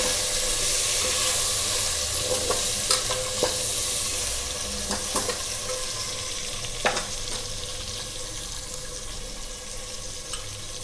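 Chopped tomato chunks are stirred into a sizzling Andhra-style fish curry base, the frying hiss constant and close while scattered clinks and scrapes of the spoon come through unevenly, with no voices.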